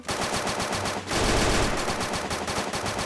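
Rapid automatic gunfire from a house in the video game Free Fire, dense loud bursts of shots running almost continuously with a short pause near the one-second mark.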